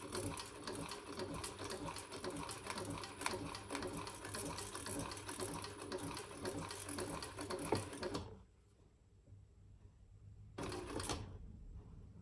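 A sewing machine stitches slowly on a navy floral crossbody bag, a close, continuous mechanical chatter for about eight seconds that stops, then one short burst follows after a pause.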